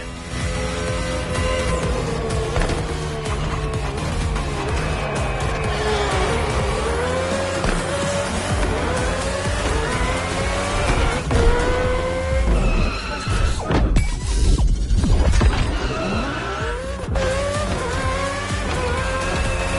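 Race car engine roars continuously in The Crew Motorfest motorsport racing game, loud and steady with rising and falling revs through corners and tires squealing briefly mid-lap, with no talking.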